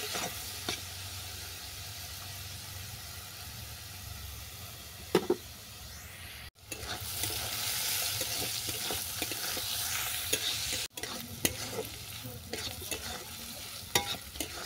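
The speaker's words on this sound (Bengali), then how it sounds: "লবণ দিয়ে সমস্ত সবজিগুলো আমি ভালো করে ভেজে নিচ্ছি।" Vegetables with capsicum and salt are frying for chicken simai, a continuous close sizzle with stirring scrapes, briefly interrupted by two sharp cuts before the frying resumes louder.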